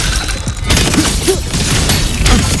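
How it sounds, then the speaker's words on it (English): Rapid, loud booming bursts of automated cannon fire in Wuthering Waves pound in quick succession, dense and continuous, with heavy thuds layered through a noisy battle din. "Think of it as a very powerful automated cannon."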